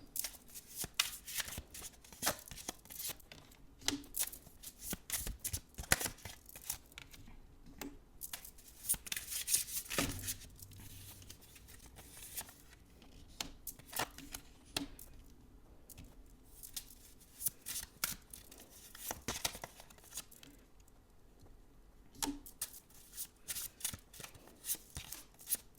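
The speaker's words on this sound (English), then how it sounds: "So I'm going to lay all the cards out first." Tarot cards are handled and laid out one by one on a surface, producing soft, intermittent close-up slaps, slides and shuffling rustles in an otherwise quiet room.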